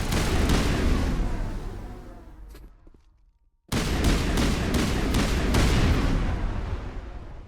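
Gunfire in the sci-fi shooter Mass Effect Legendary Edition, loud repeated bursts of shots and heavy booming impacts that break off into a brief near-silence before a fresh barrage of rapid, punchy shots resumes.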